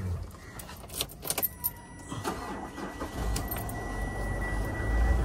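A diesel Mitsubishi Pajero Sport is started with a few clicks and rattles, then the engine catches and settles into a low, steady idle that grows louder toward the end.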